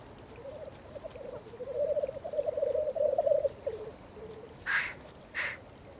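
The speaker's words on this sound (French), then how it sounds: "En ce début de printemps, le tétralyre fait son show." Black grouse giving its spring display call in the Alps, a rolling bubbling song that swells and fades over several seconds, followed by two short hissing bursts, heard alone in open mountain air.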